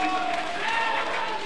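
Crowd applause in a university volleyball arena after a quick middle attack, a steady broad wash of clapping and cheering with voices mixed in throughout.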